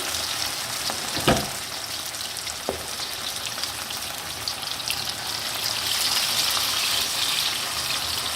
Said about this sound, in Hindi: इसी तरह मैं सारी फिश को फ्राई कर लूँगी।